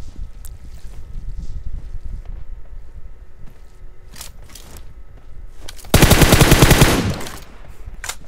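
Rapid automatic gunfire in a video game, a loud dense burst of about a second standing out over a steady low background rumble.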